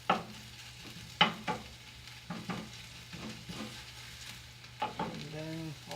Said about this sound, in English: curry leaves, then ginger garlic, just fry it a little bit